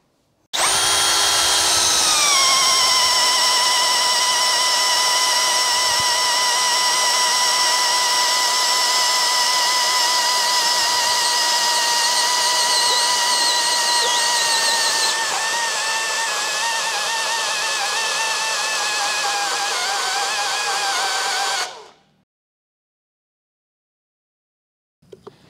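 An NRT PRO DC brushless cordless drill runs free at a steady high-pitched whine for about twenty seconds, dips slightly in pitch midway, then winds down and stops.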